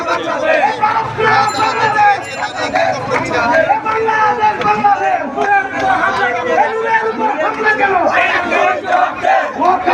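A large crowd of protesters at a street rally chants slogans in loud, continuous unison, voices swelling and overlapping with shouting and crowd chatter throughout.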